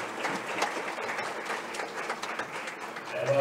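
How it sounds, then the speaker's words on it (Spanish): Audience applause at the closing session of the LACNIC 40 / LACNOG 2023 internet conference, a dense, even patter of many hands clapping at moderate level and swelling slightly at the end. "Un aplauso para ellas."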